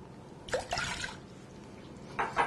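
Half a cup of water splashes into a mixing bowl holding apple juice, a couple of short close pours with quiet gaps between them, no talking.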